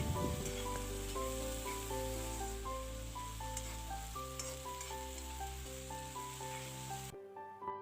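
Dorun greens fry in a covered pan while being stirred, with a steady hiss running under prominent background music until the sound cuts off abruptly just before the end.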